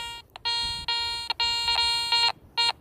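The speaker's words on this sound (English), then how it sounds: "hear that double beep?" Series of bright electronic tones from a metal detector with a Garrett Super Sniper coil, sharp beeps repeating in short pairs and longer bursts over a penny on the ground, close and clear with no speech.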